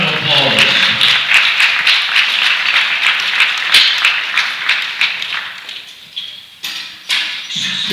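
Crowd applause and cheering at a women's classic bench press world championship, a loud dense wash of clapping that carries on under an announcer's talk and thins out near the end.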